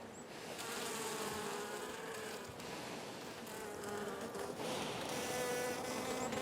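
Honeybees swarm and hum over an open hive frame during a spring beekeeping inspection in New Hampshire, a dense, steady buzzing that stays close and loud throughout with no voices.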